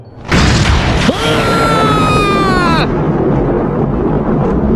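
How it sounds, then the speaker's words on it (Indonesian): A loud thunderclap explosion rings out for an audio drama as golden lightning strikes, starting with a sharp crack, then a long rumbling boom with ringing tonal sweeps that fade after about two seconds, over a constant noisy bed. "Suara ledakan petir itu terdengar sangat keras hingga berresonansi ke dalam istana utama"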